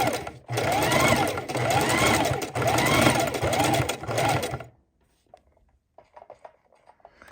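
A sewing machine runs steadily for raw edge appliqué stitching, loud and near for about four and a half seconds with a slight pause early on. It then stops and leaves near-silence broken by a few soft handling taps.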